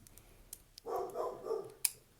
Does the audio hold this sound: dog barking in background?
yes